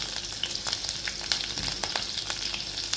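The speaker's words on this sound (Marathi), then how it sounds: "मिरची आपण परतून घेऊ 1 मिनिट।" Green chillies and asafoetida fry in hot oil, giving a steady, close crackling sizzle with small pops and occasional stirring scrapes.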